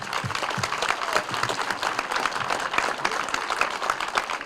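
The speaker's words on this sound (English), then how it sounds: "Let's give him a round of applause." An audience at an elementary school ribbon cutting ceremony claps steadily, a dense, even round of applause from a sizeable crowd that holds at a constant level throughout.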